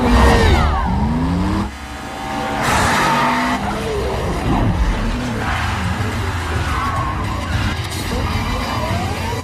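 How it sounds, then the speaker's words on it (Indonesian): Loud street race in the film 2 Fast 2 Furious: tires screech and skid repeatedly while engines rev and roar, with continuous, dense car noise throughout. "Dalam aksi balapannya, Brian dan Roman berhasil memenangkan mobil"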